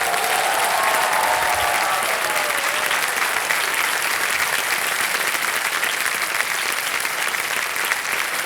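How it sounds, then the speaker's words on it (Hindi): A studio audience on the Kaun Banega Crorepati game show bursts into dense, loud, sustained applause that holds evenly for several seconds, with faint crowd murmur mixed in. "वाह, ताली बज जाए इनके लिए।"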